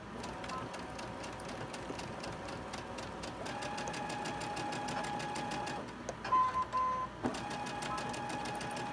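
Sewing machine stitching a fabric bag, a steady fast mechanical whir and rapid needle chatter running throughout, briefly slowing near the end, with faint voice in the background.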